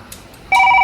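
A phone rings while a caller tries to reach a pastor: silence, then a loud, steady electronic ring tone starts halfway through and holds to the end, with no talking.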